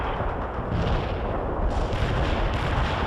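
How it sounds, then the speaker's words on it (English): Heavy artillery barrage in the World in Conflict video game, a dense continuous roar of rumbling blasts and booms with no pauses, loud and unbroken throughout. "Heavy artillery barrage inbound."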